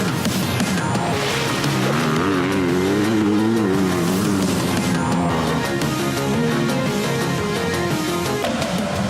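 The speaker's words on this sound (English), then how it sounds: "Honda has given you a gift, the new CRF 250RX." A 2019 Honda CRF 250RX dirt bike engine revs loudly and near, its pitch rising and falling through throttle blips, with no talk over it.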